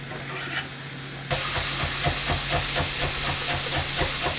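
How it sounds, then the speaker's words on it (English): Thick-cut bacon frying in a pan with a steady, loud hiss and sizzle that starts abruptly and keeps going, with light crackling pops throughout. "The bacon's been in the pan for about 2-3 minutes and it's starting to get that nice colour, the crispiness"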